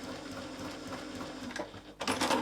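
A sewing machine doing free-motion stitching runs at a steady, moderate whir, fairly quiet and close, with a brief louder rattle near the end.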